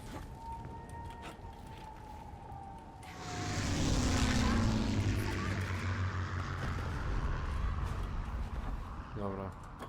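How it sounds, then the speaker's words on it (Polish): An airplane engine roars up in the Indiana Jones and the Great Circle video game, rising to a loud sustained drone after a few seconds of quieter sound, with no talk. "Mamy samolot nasz."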